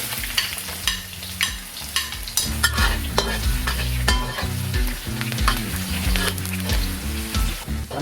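Ginger and garlic sizzle in hot oil with popped mustard seeds in a pan for a beef pepper roast. A spatula scrapes and stirs through them in uneven bursts, close by, with no talking.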